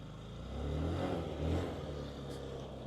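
A Honda Ruckus scooter engine starts and idles with a low, fairly quiet hum, swelling briefly in a couple of gentle revs before settling back to a steady idle.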